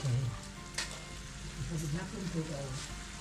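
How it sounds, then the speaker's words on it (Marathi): Forest mushroom curry simmers in a pan, a soft steady sizzle and bubbling heard fairly quietly, with a faint voice murmuring underneath. "तर आता थोडं शिजू द्यायचं"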